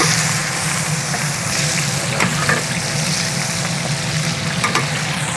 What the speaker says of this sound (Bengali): দিয়ে দিচ্ছি পেঁয়াজ কুচি।